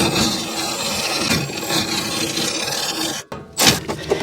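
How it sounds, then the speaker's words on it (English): A wrench backing off the nut on a Mazda 3 rear shock makes a continuous close, gritty rasping and ratcheting scrape, with a brief pause and a renewed burst near the end. "Now let's back the nut off."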